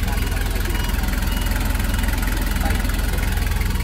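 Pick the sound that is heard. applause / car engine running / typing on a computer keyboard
car engine running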